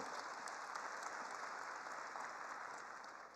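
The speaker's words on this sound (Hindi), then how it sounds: "एक बार जोर से सभी महिलाओं के लिए ताली बजाइए भैया।" A crowd at a public event in a dairy factory setting gives sustained, faint and distant applause, a steady wash of clapping throughout.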